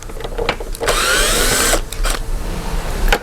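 A power tool spins out the fasteners holding the headlamp assembly on a Jeep Cherokee KL, a loud whirring burst of about a second between shorter bursts and clicks, close by.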